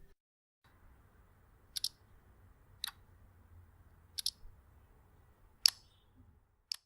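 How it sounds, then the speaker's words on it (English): Four or five sharp, isolated clicks spaced about a second apart over a quiet low hum: MIUI 10 phone lock, unlock and camera shutter sounds. "New sound effects are present in the ROM for locking, unlocking and clicking pictures."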